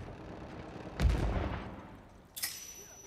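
A C4 explosion in Uncharted 4 multiplayer lands as a heavy, close boom with a rumbling tail, followed a second later by a sharper secondary blast over steady game background noise.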